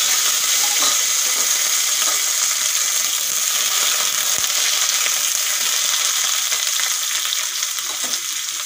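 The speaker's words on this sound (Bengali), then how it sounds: "সামান্য নুন আর হলুদ দিয়ে আমি আলুগুলো লাল লাল করে ভেজে নিচ্ছি।" Long-cut potato strips frying in hot oil in a kadai (wok) with a little salt and turmeric, a loud, steady close-up sizzle with faint stirring clinks throughout.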